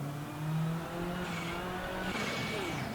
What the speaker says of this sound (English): driving the Fabia R5 Evo, same as she's driving in the British series